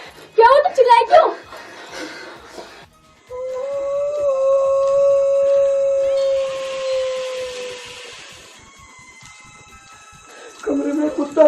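A dog lets out a long, sustained howl indoors in a room, rising then slowly fading, with excited talking just before and just after it.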